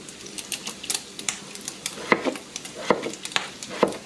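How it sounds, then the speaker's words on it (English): Bacon grease popping in a frying pan: a quick, irregular run of sharp crackles and snaps, close up and fairly busy, with no talk over them. "be careful with that bacon grease popping"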